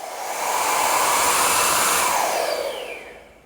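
A 3-in-1 vacuum, blower and inflator starts up with a rising airy whoosh, holds a loud steady blowing roar for about two seconds, then spins down and fades out.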